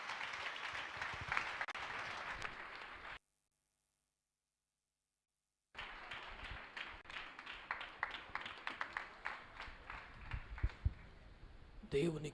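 A church congregation claps in welcome for a reverend taking the pulpit, a dense, steady patter of many hands that breaks off into a gap of silence, then resumes just as thick and busy.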